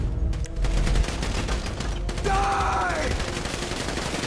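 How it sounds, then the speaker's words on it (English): Rapid automatic gunfire erupts in a GTA 5 heist shootout, sustained bursts crackling close and loud over a dense mix, with a brief shouted word from a voice partway through. "So I guess we're shooting our way out of here."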